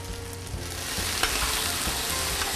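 Garlic and onion sizzle steadily in hot cooking oil, a dense continuous frying hiss with occasional stirring clicks, close and alone without talk.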